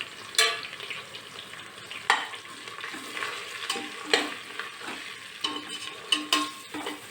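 Vegetable biryani masala sizzling in a pan as chili powder is stirred in, with a constant frying hiss and several sharp scraping strokes of a spoon against the pan.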